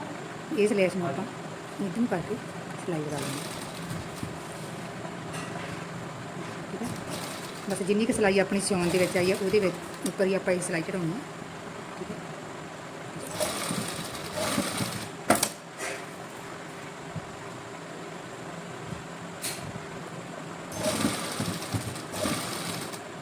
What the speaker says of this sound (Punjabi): ਇੱਥੋਂ ਬਰੀਕ ਦੀ ਸਲਾਈ ਲਗਾਉਣੀ ਹੈ ਤੁਸੀਂ ਇਸ ਕੋਰਨਰ ਤੇ ਨੀਵੇਂ ਚੜਨ ਦੇਣੀ ਹੈ ਸਲਾਈ